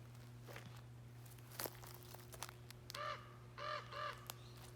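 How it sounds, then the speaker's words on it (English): A crow caws several times in short harsh bursts, fairly distant, over a faint steady hum and a few scattered crackles. "I think that's actually a crow."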